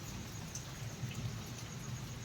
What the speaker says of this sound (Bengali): এখন বৃষ্টিটা একটুখানি কমেছে হাওয়াটাও কমেছে বাপরে বাপ যা ঝড় বৃষ্টি হলো